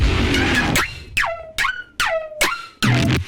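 A bright, loud, clipping Serum synth lead without effects plays short stabs that swoop sharply downward in pitch, four or five hits separated by brief gaps.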